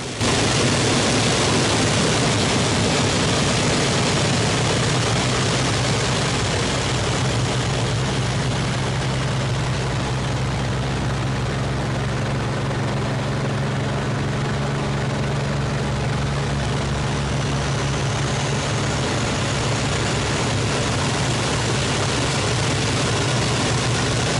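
Hawker Hurricane piston engine heard from inside the cockpit during an aerobatic loop: a loud, steady, droning engine roar with a broad wind rush, continuous for the whole stretch, its pitch shifting slightly partway through.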